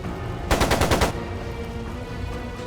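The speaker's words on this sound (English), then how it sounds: "It sounded like a machine gun." A short, loud burst of machine gun fire in the video game Trails of Cold Steel 2, about half a second of rapid rhythmic shots close up, then only quiet background ambience.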